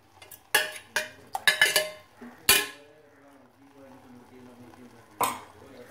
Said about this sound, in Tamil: அப்படியே ஊற்றி நம்ம இதை நல்லா ஒரு கிண்டி கிண்டி விட்டுடலாம்